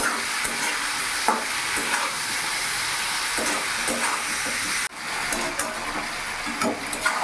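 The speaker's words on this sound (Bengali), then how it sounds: "কিছুক্ষণ আমি নাড়াচাড়া করে একটু ভেজে নেব যাতে চিকেনের কাঁচা ভাবটা চলে যায়।" Chicken stir-fries in a pan over a medium gas flame, a loud continuous sizzle broken by scraping stirs, with a brief dip in the sound partway through.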